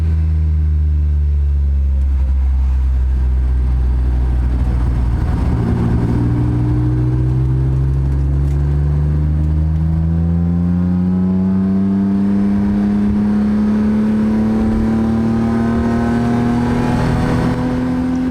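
A car engine revs loud and close, its pitch climbing steadily as it accelerates through a long, continuous pull with a slightly raspy tone.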